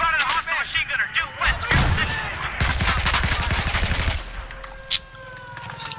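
Rapid, loud gunfire from a Battlefield 4 match on the Guilin Peaks map, with dense bursts of shots and explosion-like cracks filling most of the stretch, plus a brief voice early on.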